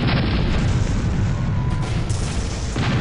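Cannons firing in the Air Buccaneers video game, a loud booming blast followed by a rumbling roar that fades, with another sharp burst near the end.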